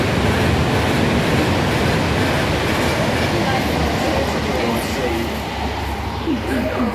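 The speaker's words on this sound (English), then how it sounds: "There's an Avanti West Coast passing." A loud, continuous rumble and rushing roar of an Avanti West Coast passenger train passing close by through a station, steady throughout with faint rattling on top.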